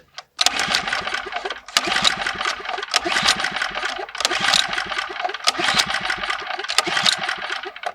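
Small gasoline engine on a yurt-platform build site, repeatedly pulled to start and running in loud, rough bursts separated by brief pauses, close by with no talk.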